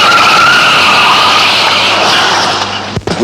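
A car brakes hard in street traffic, its tyres skidding with a loud sustained screech that ends in an abrupt stop.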